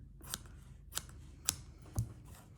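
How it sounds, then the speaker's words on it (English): Scissors snipping fabric for Easter bunting for vintage doll clothes, four crisp, separate cuts spaced about half a second apart, close and fairly quiet with no talk. "I reckon this too will tear, but let's assume it doesn't and just cut it."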